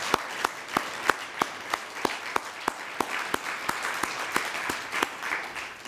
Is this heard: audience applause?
yes